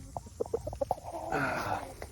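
Chickens in a mobile galvanised chicken tractor cluck nearby in quick, uneven bursts, ending in a longer drawn-out squawk; no one speaks.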